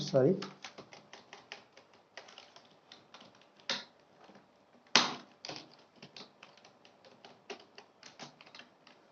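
Fast keystrokes clatter on a computer keyboard during accounting data entry in Tally ERP 9, a steady run of close, crisp clicks with a few louder taps and a brief voice at the very start.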